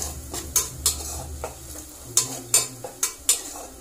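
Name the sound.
stirring spices in a frying pan for chicken curry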